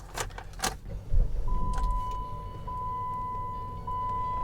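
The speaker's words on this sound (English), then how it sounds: "now we're going to hop inside and start the vehicle right up" A 2016 Jeep Compass North Edition starts up: a few key clicks, then a short cranking surge settling into a quiet, steady idle hum, with a sustained chime tone ringing over it.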